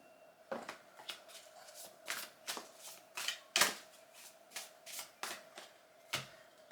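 Tarot cards are shuffled in a soft, close series of riffling flicks and taps, roughly a dozen bursts at an uneven rhythm, quiet and with no talking.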